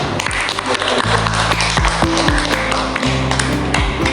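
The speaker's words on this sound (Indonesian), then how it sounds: "tepuk tangan" Applause from an audience at a school award event honoring top model and fashion competition winners, dense and steady across the clip, with busy crowd noise and low rumble mixed in.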